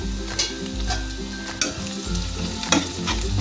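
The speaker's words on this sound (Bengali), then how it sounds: "ভালো করে নেড়ে নিচ্ছি" Kashmiri chili powder masala frying in hot oil for chicken kosha, with a spatula stirring and scraping the pan in a few sharp strokes over a steady, close sizzle; no voices.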